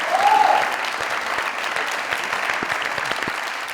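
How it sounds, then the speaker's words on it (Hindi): Loud, dense applause from a studio audience at a Pakistani comedy talk show taping, steady clapping throughout with a slightly stronger burst at the start. "जोरदार ताली।"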